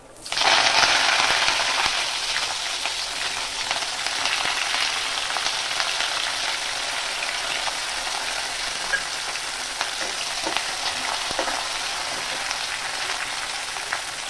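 Green chillies, curry leaves and onion hit hot oil in a pan while cooking sambar, bursting into a loud, steady sizzle that holds strong for over fourteen seconds with occasional crackles and no talking.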